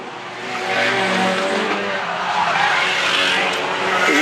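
A stock car, a small Corsa, spins out on a stadium race track, its tires squealing and skidding over loud engine roar, with race commentary faintly audible underneath.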